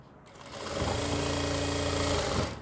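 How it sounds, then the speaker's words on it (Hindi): A sewing machine runs steadily while stitching a belt salwar, a close, continuous motor whir with rapid needle chatter that builds after a brief start and holds for about two seconds. "इस तरीके से आपको यहाँ पे सिलाई लगानी है।"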